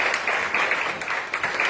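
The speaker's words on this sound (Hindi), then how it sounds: "हम ताली बजाते हैं पास्टर जी" A church congregation claps for a visiting pastor: a short stretch of brisk, fairly loud clapping from many hands, slightly uneven in rhythm, with no voice over it.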